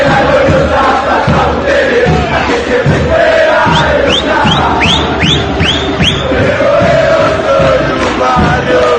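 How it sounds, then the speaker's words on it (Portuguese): San Lorenzo football fans loudly sing the terrace chant Soy de Boedo, a massed crowd of voices in steady rhythm, with a quick run of rising whistles cutting through midway. "a música da torcida do São Lourenço chama Soy de Boedo"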